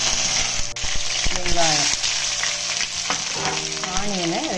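Cinnamon and curry leaves frying in hot refined oil for a drumstick prawn gravy, a steady loud sizzle with stirring clatter while a person talks over it.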